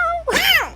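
A cat lets out a short, loud yowl, rising and then bending down in pitch, heard alone and close.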